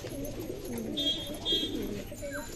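A pair of Kalanka pigeons coos softly at close range in a loft, giving a few low, throaty burbling coos with faint higher chirps over a light background hum.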